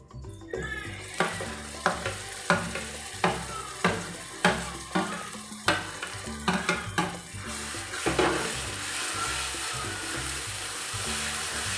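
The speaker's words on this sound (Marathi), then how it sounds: "त्यानंतर आपण यात जो आपण काळा मसाला केलेला आहे ना, दिसतोय ना तुम्हाला, तो टाकूया" Black masala fried in hot oil for a chicken curry, with a spoon scraping and clanking against the pan in a steady rhythm of about a dozen strokes over continuous sizzling.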